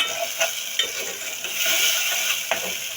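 Sweet corn and chili flakes fry in hot ghee, a steady hiss of sizzling with a few soft stirring clicks, close and moderately quiet.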